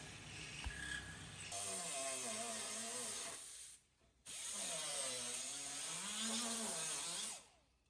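A power saw cuts through the metal front fender of a Land Rover Discovery 2, making two long loud grinding passes with a rising and falling whine, separated by a short pause.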